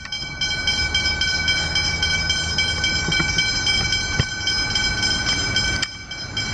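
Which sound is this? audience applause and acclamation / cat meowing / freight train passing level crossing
freight train passing level crossing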